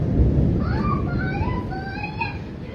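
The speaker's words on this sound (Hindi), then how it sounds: "बादल तो हो लिए और बादल कड़कड़ा रहे जबरदस्त" Thunder rumbles from heavy clouds before a rainstorm near the India border, a deep continuous roll filling the low end, with people talking faintly over it.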